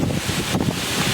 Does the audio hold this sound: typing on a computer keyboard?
no